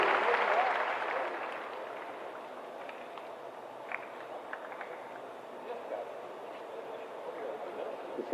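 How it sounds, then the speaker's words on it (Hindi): Applause from the audience at a police appointment-certificate ceremony starts loud for the first second or so, then fades, leaving scattered individual claps and faint background noise. "तालियों में कोताही ना करें।"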